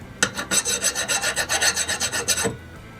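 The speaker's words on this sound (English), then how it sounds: "Alright, now to do the file test." A metal file rasps across a hardened knife blade after quenching, stripping scale without biting into the steel. About fifteen quick, evenly spaced back-and-forth strokes sound close and loud, then stop abruptly.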